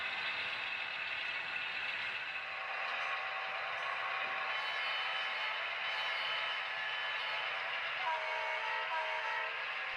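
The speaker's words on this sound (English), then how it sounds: "All of these locomotives have Loc-Sound Select sound decoders with the new FullThrottle sound sets" HO scale SD40-2 model diesel locomotives with Loc-Sound Select FullThrottle sound decoders run on a large DCC layout, giving a steady, unbroken engine rumble and hum throughout.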